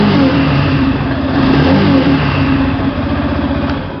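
A Yamaha FZ X Hybrid motorcycle engine revs steadily under throttle, close and loud, with a sustained mid-pitched roar that dips slightly near the end.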